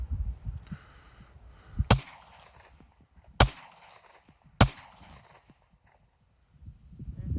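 A Glock 43 pistol fires three sharp, loud, isolated shots at an outdoor range, spaced about a second and a half apart, with low rustling and handling noise between them.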